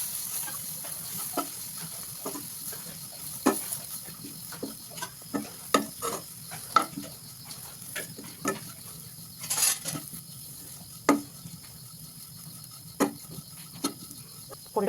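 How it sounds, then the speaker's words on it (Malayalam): A spatula stirs masala spice mix for chicken curry in a pan on a low flame, making irregular scraping clicks and taps over a faint, continuous sizzle. "മസാല ചേർത്ത് നന്നായി ഇളക്കി കൊടുക്കാം"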